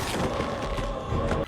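A loud, booming shotgun blast from the 2007 Ghost Rider film, a dense burst with rumbling tail that fills the moment and cuts off sharply at the end.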